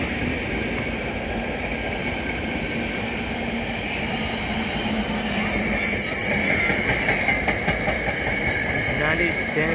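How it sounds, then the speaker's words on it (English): A SEPTA Regional Rail express train on the Trenton line of the Northeast Corridor rolls past in a loud, sustained rumble with rhythmic wheel clatter and a faint high squeal, steady and near throughout. "The only express train for the Trenton line."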